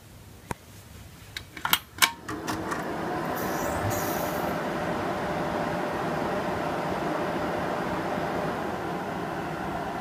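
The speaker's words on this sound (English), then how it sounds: "Can you hear those power supply fans?" A custom-built desktop PC powers on, a few clicks and thumps giving way to a loud, steady broadband whoosh of power supply fans that runs on without change.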